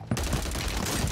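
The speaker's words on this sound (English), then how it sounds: "What's this new pistol? The TYR." TYR pistol fire in Warzone 3: a quick, loud string of close, punchy gunshots packed tightly together in about a second.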